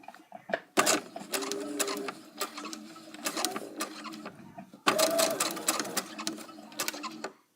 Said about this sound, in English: trying to sew over that gather that we made